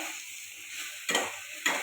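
Egg and onion sizzle in butter in a hot pan with a steady crackle, broken by two quick scraping stirs.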